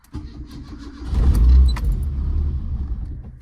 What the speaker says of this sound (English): let's have an actual live start of the car. It's out of gear, no throttle.